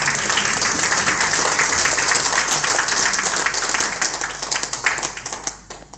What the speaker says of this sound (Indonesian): Lanjut lagi tepuk tangannya biar semangat